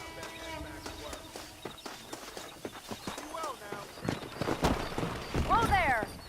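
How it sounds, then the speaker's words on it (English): Horse hooves clip-clop in a Western video game, Red Dead Redemption, a quiet rhythmic run of hoofbeats with other faint game sounds and brief voices mixed in, growing a little louder toward the end. "Let's see if we can't wrangle some horses"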